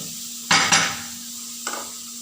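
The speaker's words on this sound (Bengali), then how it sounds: "এই যে পেঁয়াজ দিয়ে দিলাম, ভাজতে হবে একদম ভালো করে।" Onions frying in a pan, with a steady low sizzle under sharp clinks and scrapes of a utensil stirring against the metal, two quick strikes followed later by a softer one.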